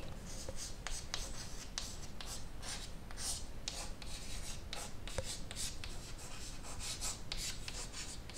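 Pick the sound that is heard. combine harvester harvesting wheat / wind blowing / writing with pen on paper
writing with pen on paper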